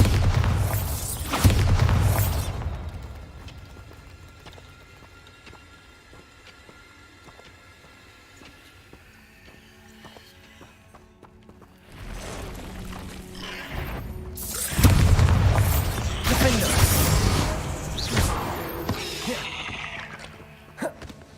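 Bombarda and Confringo spell blasts in Hogwarts Legacy burst out as heavy booming explosions, a loud one at the start and another pair later, with rumbling, crackling debris fading between them.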